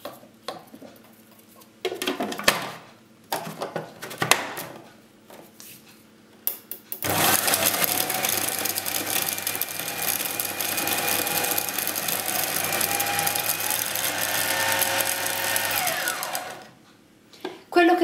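An electric mixer beats butter and cane sugar for pumpkin cupcakes, a steady loud whirring drone for about nine seconds after some clinks and handling noises, then winding down.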